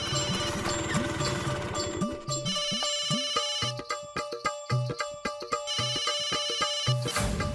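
A phone rings with a repeated electronic ringtone, a bright musical pattern of short pulsing tones that loops steadily, loud and close, with no talking over it.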